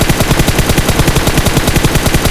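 Rapid automatic gunfire in the battle royale game BGMI, a loud, unbroken stream of closely spaced shots hammering steadily from start to end.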